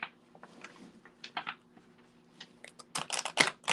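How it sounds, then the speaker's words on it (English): Tarot cards are shuffled by hand in short papery riffles and taps, quiet at first and then louder, faster bursts near the end, with no voices. "These cards are not shuffling right today."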